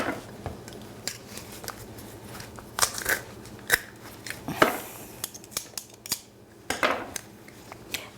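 A knife cuts through a large garlic clove on a kitchen board during Italian tomato basil sauce prep, giving a string of sharp crunchy snips and clicks spread over several seconds, close and fairly loud, with no talking.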